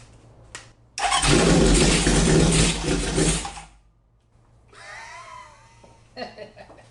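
A long-neglected Honda CB750 motorcycle engine cranks and catches, roaring close and loud for roughly three seconds before cutting out, followed by quieter mechanical noises and faint squeaks.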